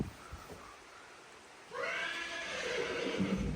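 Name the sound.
stressed horse whinnying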